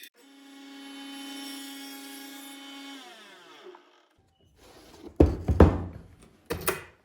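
Power saw running on a sled through a stack of about six wood veneer sheets, a steady loud whine that winds down, then a quiet gap followed by a few heavy knocks and clunks.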